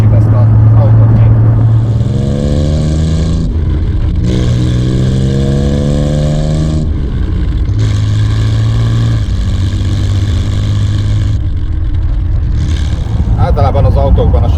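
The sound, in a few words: Triumph TR6 sports car being driven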